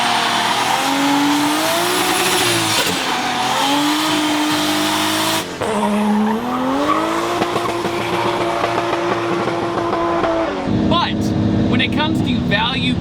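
A Toyota 1JZ engine revs loudly and close, climbing and falling in pitch through repeated rises, with a sharp change midway and a quicker rasp near the end.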